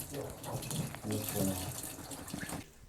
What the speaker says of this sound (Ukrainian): тут катують постійним шумом води